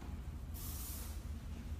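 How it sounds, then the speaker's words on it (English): Hair spray hisses out of a can in one steady burst lasting about half a second, loud and close, during the finishing of a short haircut, with a low background hum around it and no talking. "Spraying little bits down."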